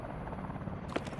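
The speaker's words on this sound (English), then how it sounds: "Push to the chopper!" A military helicopter in Call of Duty: Advanced Warfare drones with a steady low rotor rumble, close and constant, with a brief sharp burst near the end.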